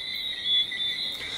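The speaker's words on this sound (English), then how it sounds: "the frogs that we're hearing singing are males and are calling to the female." Male tree frogs calling to females, a continuous high, thin trilling chorus that holds steady and briefly swells, heard alone with no talking.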